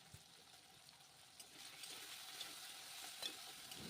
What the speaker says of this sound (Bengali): আলুর মধ্যে অল্প পরিমাণ হলুদের গুঁড়ো আর লবণ দিয়ে দিলাম, দিয়ে ভালো করে ভেজে নিচ্ছি